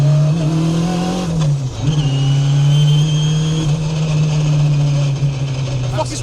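A K20-engined Toyota MR2 revs at part throttle, a loud sustained engine drone that dips briefly and rises again, close up.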